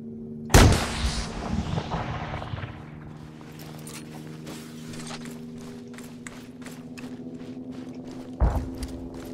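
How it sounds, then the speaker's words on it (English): In a video game, a heat-seeking missile launches with a sharp loud blast, then a long roaring hiss that fades over several seconds beneath a steady engine drone, before a second sharp burst near the end. "Are you using a heat-seeking missile, you fucking cheater?"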